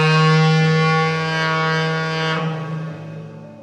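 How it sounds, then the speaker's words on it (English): Mull of Galloway Lighthouse foghorn sounding one long, loud, steady blast with a rich harmonic drone that holds for about two and a half seconds, then drops in pitch and fades into a reverberant tail. "Having heard the Foghorn, I'm going to do it once more."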